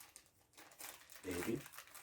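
A small plastic candy bag is crinkled and torn open with a short burst of crackling plastic close to the listener, after a faint rustle.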